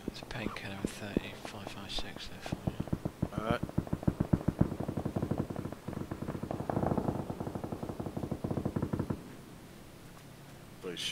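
Rapid automatic gunfire in PUBG, long sustained bursts of evenly spaced shots at moderate distance, with brief pauses and a whispering voice talking over the top.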